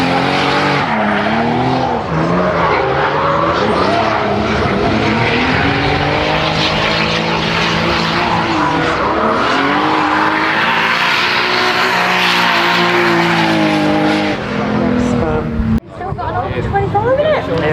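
Drift cars roar around a track at a British Drift Championship round at Three Sisters, engines screaming and rising and falling continuously with tyre noise, loud and near, under commentary voices.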